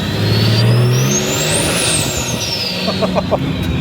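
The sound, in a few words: loud turbo diesel engine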